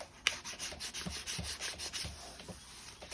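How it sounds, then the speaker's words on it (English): Sandpaper rubs by hand over a leather Cosworth steering wheel wedged against a desk, a close, steady series of rhythmic scratchy strokes with no voices. "just rounding it with the sandpaper like that"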